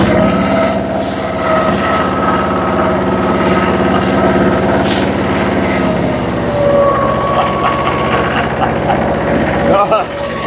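A tractor engine runs in second gear with a loud, steady mechanical drone and rattling, close by throughout, while someone speaks over it.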